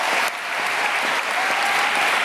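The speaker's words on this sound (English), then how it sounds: "can we please give them a round of applause?" A graduation congregation audience claps steadily for academic and non-academic staff, a full room of sustained, bright applause with no voices on top.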